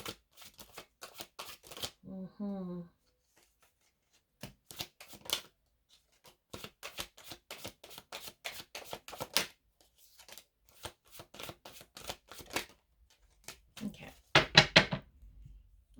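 Tarot cards shuffled by hand in quick repeated riffles and flutters, close and fairly soft, in bursts over about sixteen seconds with short pauses and a brief vocal sound.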